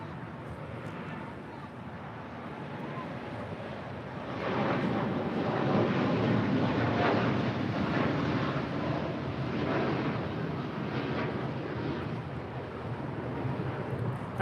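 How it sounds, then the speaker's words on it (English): A United Boeing 787-9 Dreamliner heavy jet departs LAX, its engine rumble swelling partway through into a louder, sustained roar that stays to the end, with a voice speaking over it. "That was United 923 departing to London Heathrow on a 787-9 Dreamliner"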